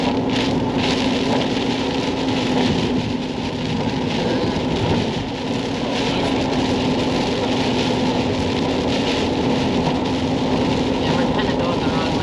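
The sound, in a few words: heavy rain during a storm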